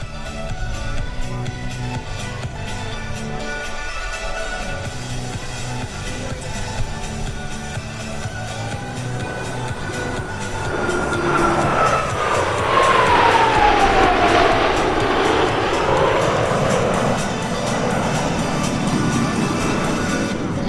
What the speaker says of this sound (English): the 6 aircraft are approaching for the Delta Flat Pass